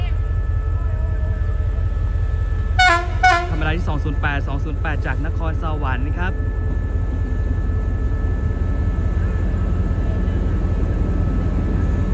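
Express train Ubon 135 pulls into Ayutthaya station on platform track 2, a steady low rumble with a cluster of short tonal, horn-like blasts partway through.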